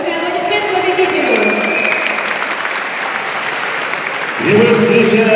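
An audience applauds the winner at a staged dance performance event, sustained clapping with some crowd noise, then a voice begins speaking over it near the end.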